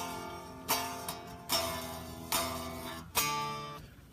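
Guitar strums a descending chord riff from F down to E from a song, four separate ringing strums spaced about a second apart, moderately quiet and played alone.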